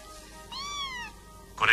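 A single kitten born in a cow barn gives one clear, rising-and-falling meow, close and fairly loud, followed by a brief rustle.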